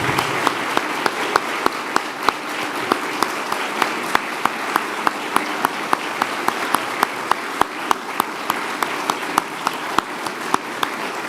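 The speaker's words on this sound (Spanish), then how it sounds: "Creo que el presidente se merece un aplauso mucho más fuerte" Audience applauding the president in a hall, loud sustained clapping with sharp individual claps standing out from the dense wash, continuous for the whole stretch and without talk.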